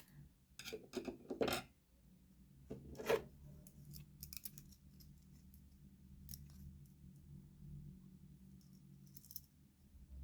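Scissors snip through a string of beads on a satin ribbon bow project, giving a few sharp close cuts early on, then soft rustling handling noises continue at low level.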